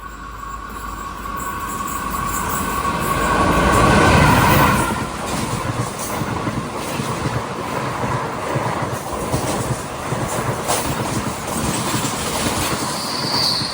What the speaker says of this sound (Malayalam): MGR Chennai central Palakkad super fast ഇതാ വരികയാണ്.